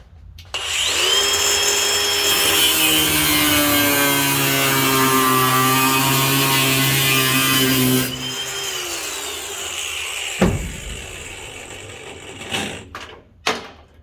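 Power tool on a classic Ford Bronco being taken apart for restoration, working a stubborn bolt: a loud, steady whine runs about seven seconds, eases to a lower hum, then a few sharp clanks and knocks follow.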